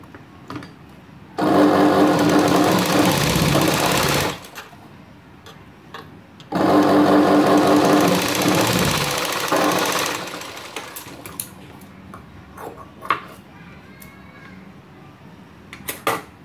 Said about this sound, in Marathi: असं याला एक साईडनी किनारी शिलाई मारून घ्यायची